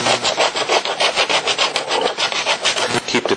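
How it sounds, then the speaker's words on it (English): A 4mm tool steel scraper works back and forth across a surface in fast, regular rasping strokes, loud and close, about six scrapes per second without pause. "we're going to move to our 4mm tool steel scraper"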